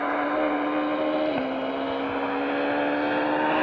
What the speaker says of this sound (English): Craig Breen and Dave Moynihan screaming the Peugeot 207 into shot.